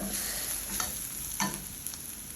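Onions sauté in hot oil for a Chettinad chicken curry, a steady close sizzle broken by a few scraping stirs of a spoon in the pan, with no voices.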